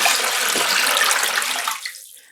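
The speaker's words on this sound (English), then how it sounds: "And I'm going to add in 4 liters of water" Four liters of water pour in a strong, steady rush into a yarn dyeing pot, a close, full gush that holds evenly and then trails off quickly at the end.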